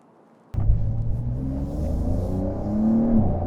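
A 2020 Porsche 911 Carrera S (992) engine starts abruptly, then settles into a steady rumbling idle with rising and falling harmonic tones, heard close and alone with no talk.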